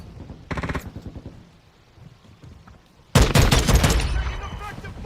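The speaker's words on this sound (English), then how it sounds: "Taking effective fire." Automatic gunfire in Call of Duty Modern Warfare II: a short burst early on, then a loud, sustained barrage of rapid shots from about three seconds to the end, with faint voices under the quieter stretch.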